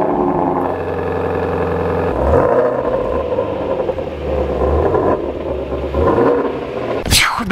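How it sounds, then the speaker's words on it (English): Ford Mustang car engine idling, then rumbling and pulling out of a driveway, a steady low drone with harmonic tones that shift as it moves off, close and fairly loud, ending in a brief sharp rising whine. "I'm literally pulling out of the driveway"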